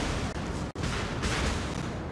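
Heavy battleship gunfire in World of Warships, a North Carolina versus Bismarck battle, as a loud, continuous roar of rapid shots with no clear gaps between blasts, heard without speech.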